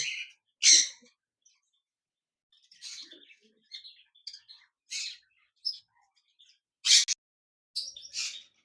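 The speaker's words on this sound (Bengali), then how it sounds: "এখানে দেখতে পাচ্ছেন একজোড়া বাজিগার পাখি রয়েছে" A pair of budgerigars, the male a creamino, chirp in a cage at a bird shop: sharp, bright tweets and short squawks scattered irregularly across near silence, fairly close.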